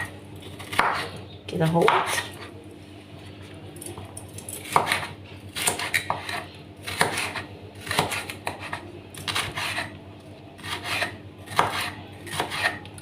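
A knife cuts red pepper lengthwise into strips on a board, giving irregular sharp taps and scraping strokes, close and fairly quiet, with brief speech in between.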